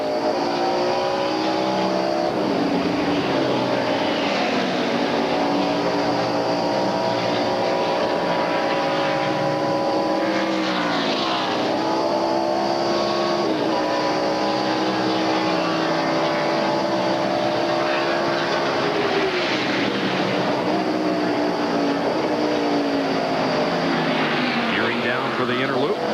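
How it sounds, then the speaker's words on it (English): NASCAR stock cars racing at Watkins Glen in the 1996 Bud at the Glen, with the McDonald's Ford leading: a loud, continuous engine roar with rising and falling revs throughout, voices talking over it. "Dorsey Schrader leading the McDonald's Ford at the moment"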